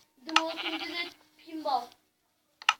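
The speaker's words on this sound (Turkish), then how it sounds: "Yok koyunu çağırdık." A sheep is summoned in a video game, giving two wavering, nasal bleats close up, followed by a brief sharp sound at the end.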